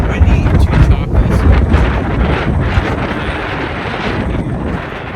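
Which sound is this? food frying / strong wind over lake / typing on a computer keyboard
strong wind over lake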